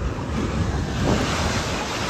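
Ocean surf and wind blowing across the microphone, a constant loud wash of breaking waves with no voices.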